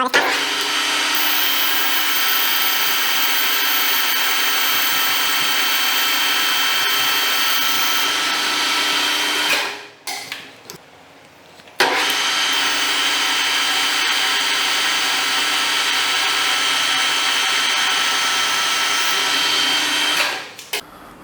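Metal lathe boring out the inside of a hole to widen it before threading: a steady, loud machining whir that runs continuously, stops for about two seconds near the middle, then resumes at the same level.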